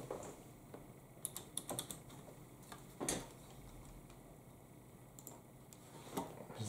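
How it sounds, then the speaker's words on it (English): Someone taps on a computer keyboard, close and fairly quiet, in irregular clusters of clicky keystrokes with short pauses between them, and no voices. "keyboard."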